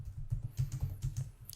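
Rapid, steady keystrokes as code is typed on a computer keyboard, close and fairly quiet clicks in an even rhythm with no voices.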